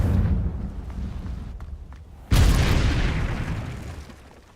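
Confringo blasting spell in the Hogwarts Legacy video game: a fading low rumble, then one sudden loud explosive boom that slowly decays, no voices.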